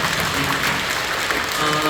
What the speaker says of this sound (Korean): 다시 한번 처음 오신 분들 사랑하는 마음 뜨겁게 박수주시고 감사합니다